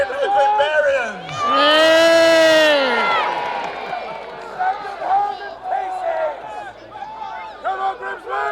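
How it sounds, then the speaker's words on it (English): A festival crowd cheering at Grimsby FalFest, a loud swell of whoops and shouts peaking early then fading into scattered calls and chatter, with voices of many people close by. "Can we get a cheer for Grim and the Grimbarians?"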